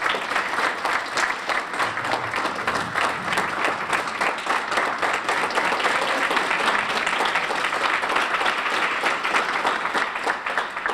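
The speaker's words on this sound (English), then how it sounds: "Let's give these gentlemen a round of applause." Audience applause for panel speakers at a summit on African American males fills the room, a steady dense clapping that holds evenly for about eleven seconds without pause.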